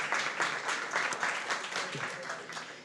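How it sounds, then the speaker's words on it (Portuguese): Audience at a housing and occupation reform panel giving a round of applause, a moderate, even patter of many hands clapping throughout, fairly close and without talk. "Salva de palmas para a NET, pessoal."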